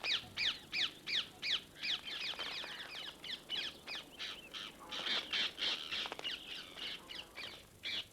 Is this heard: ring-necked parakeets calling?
yes